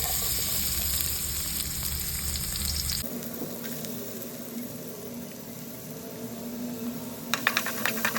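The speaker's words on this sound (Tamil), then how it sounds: "வெங்காயம் சேர்த்துக்கலாம் அதே எண்ணெயிலே" Onions fry in oil in a pan for brinjal curry, a steady sizzling hiss that shifts in tone partway through, with a few sharp crackles near the end, close and fairly constant.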